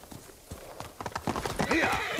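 A horse gallops with rapid, close hoofbeats in the game Ghost of Tsushima, then lets out a clear rising neigh near the end.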